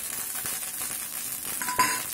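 Asafoetida and grated ginger fry in hot oil for a moong dal kachori filling, producing a close, steady hissing sizzle with light stirring clicks and a brief metallic tap near the end.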